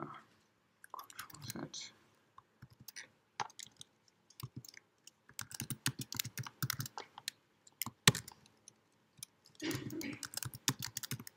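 Fingers type on a Mac keyboard, close and quiet, in irregular bursts of crisp key clicks separated by short pauses, with faint low murmuring between some of the bursts.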